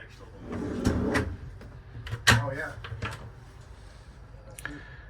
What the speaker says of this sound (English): See how nice the drawers are.